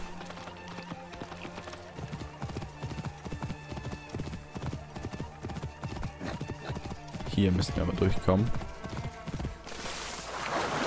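Horse hooves clip-clop steadily through Assassin's Creed Origins as a mount is ridden, with a neigh or whinny rising near the end, all beneath someone talking in German.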